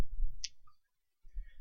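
A single crisp mouse click on a browse button, short and sharp, set between stretches of quiet low-level background noise.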